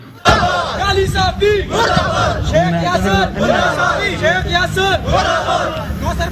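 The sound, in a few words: protesters chanting slogans outside National Press Club Islamabad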